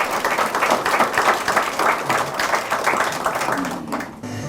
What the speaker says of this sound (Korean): 김대인 위원장님께 뜨거운 박수 부탁드리겠습니다.